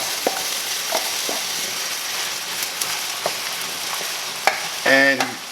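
Onion being stirred into a frying pasta mixture in a pan: a steady soft sizzle with several brief utensil scrapes and knocks, and a louder clatter of stirring near the end, close by with no talk.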